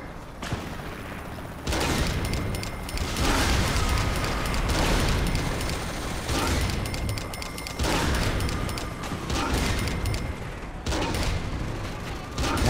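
Repeated heavy explosions and gunfire from a tank rampage in Saints Row The Third Remastered on PS5, a dense, loud, continuous barrage of booms and blasts for the whole stretch.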